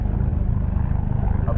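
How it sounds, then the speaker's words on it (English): A rescue helicopter at Carnac Island throbs with a continuous low rotor chop and engine rumble, close and loud throughout with no breaks. "Here's the rescue helicopter."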